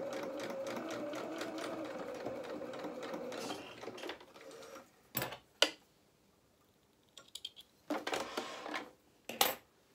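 Sewing machine stitching a kilt waistband runs in a steady rapid chatter for about four seconds, then falls to short stop-start bursts and clicks, nearby and moderately quiet.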